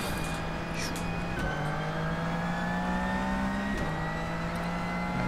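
Race car engines at Sebring in the rFactor 2 sim roar steadily and loudly, revving with pitch rising through the gears and dropping at two sharp shifts, another car close by.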